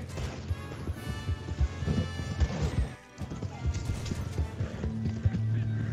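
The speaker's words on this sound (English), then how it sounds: "Oh, that's another horse." Horse hooves clip-clop and a horse neighs in the Western game Red Dead Online, busy and close amid gunfire-like crashes and game music, with a player talking over it.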